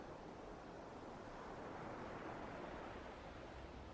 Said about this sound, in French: Le doux bruit des vagues sur le sable